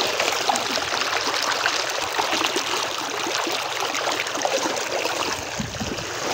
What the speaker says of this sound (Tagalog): Ganyan po kalinaw yung ilog.